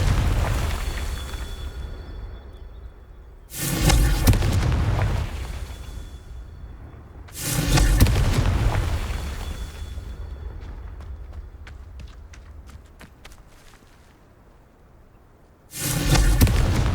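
Confringo spell blasts in Hogwarts Legacy: three loud, booming explosions spaced several seconds apart, each a sudden roaring burst that trails off into rumble and scattered crackling debris.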